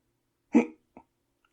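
A man imitates a hiccup with his voice: one short, close gulping yelp and then a fainter second catch, set in silence.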